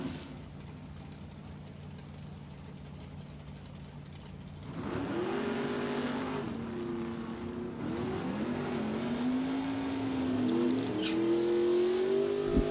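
Super Gas drag race cars at National Trail Raceway, including a '67 Chevy, idle at first, then roar off the line with rising engine tones that swell louder as they accelerate away.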